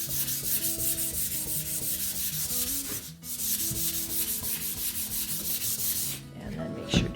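Sandpaper rubs rhythmically back and forth across a painted wooden sign, a close, steady scratchy rasp with one short pause, and no talking.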